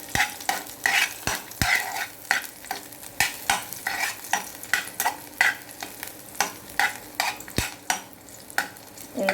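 Onions are fried in a pan, with a steady sizzle broken by a rhythmic scrape and clatter of stirring as a utensil moves the pieces around.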